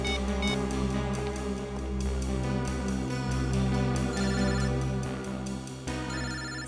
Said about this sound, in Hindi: सर दिव्या का फोन तो यही कहीं बज रहा है।